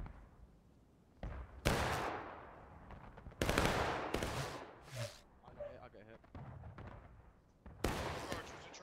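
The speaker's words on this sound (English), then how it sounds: "Aim low. We're shooting down now." Gunfire in the Civil War game War of Rights: several loud, sharp musket shots and volleys in irregular bursts, some near and some further off, with shouted voices in between.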